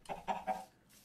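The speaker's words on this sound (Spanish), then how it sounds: "Ahí hay un pollito." Chickens clucking in the video game Minecraft, three short, close clucks in quick succession followed by a faint tail.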